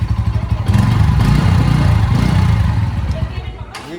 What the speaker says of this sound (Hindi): ये कुछ इसका एग्जॉस्ट नोट था